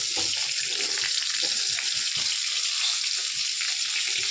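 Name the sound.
rohu fish frying in a little oil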